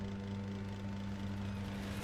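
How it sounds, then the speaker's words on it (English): A chainsaw idles in the video game Doom, giving a steady, low, humming engine drone with a constant pitch throughout, fairly quiet and uninterrupted. "I have a chainsaw."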